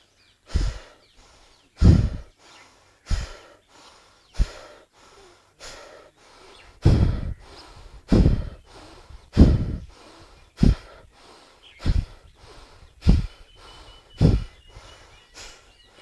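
Rhythmic yoga breathing, the abdomen inflating and deflating during an evening practice: about a dozen close, forceful breaths at a steady pace of roughly one per second, each a short, airy burst separated by quiet, with no talking.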